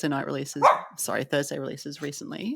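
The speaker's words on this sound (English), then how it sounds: "Sorry about my dog in the background." A dog barks intermittently in the background, short yips and woofs rising here and there beneath steady, close conversational speech.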